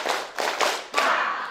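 A small group of women clapping hands together in unison during a community health session, a few loose bursts of claps close by, not perfectly synchronized.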